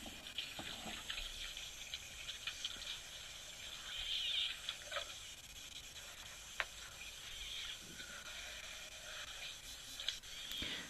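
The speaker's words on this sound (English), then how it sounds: "Listening to the sound of these elephants slurping up the water." Elephants drink at a waterhole, giving soft, wet slurps and trickling water sounds over a faint outdoor background with occasional brief clicks and splashes, all fairly distant and quiet.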